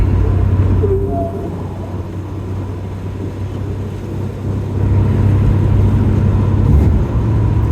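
A 1981 Corvette driving onto the interstate, its engine and road rumble a steady, loud drone that swells slightly as it accelerates, with wind noise over it.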